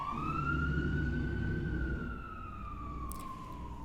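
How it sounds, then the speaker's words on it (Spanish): A siren wails steadily as an emergency vehicle drives past outside. Its tone slides slowly up and back down over a low rumble, and it stays fairly faint and distant throughout. "La sirena que pasó por su casa acaba de pasar por la mía."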